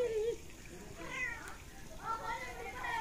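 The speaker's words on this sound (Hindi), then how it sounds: "ये देखें बिल्ली भी इंतज़ार में आके बैठ गई है" A cat in a village home meows a few times while waiting for food, with a person talking over the calls throughout.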